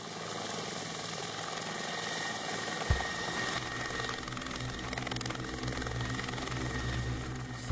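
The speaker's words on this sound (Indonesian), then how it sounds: "penyusupan melalui helikopter juga dilatihkan." A helicopter engine and rotor drone steadily through military infiltration training, loud and continuous with a broad rumbling wash, broken once by a brief low thump.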